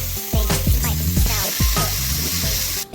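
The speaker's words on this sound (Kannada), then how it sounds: "ಗಾರ್ಲಿಕ್ ಫ್ರೈ ಆದಮೇಲೆ ಹೆಚ್ಚಿಟ್ಟಂಥ ಕ್ಯಾಪ್ಸಿಕಮ್ ಆನಿಯನ್ ಅನ್ನು ನಾವು ಫ್ರೈ ಮಾಡ್ಕೊಳ್ಳೋಣ" Garlic, capsicum and onion fry in olive oil, a steady close sizzle with several scraping stirs and clatters over it, and a sharp burst right at the end.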